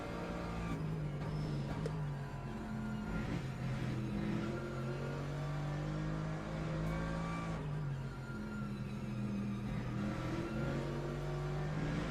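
A BMW race car engine in a racing video game drones loud and steady throughout, its pitch rising and falling with the revs, with no talking over it.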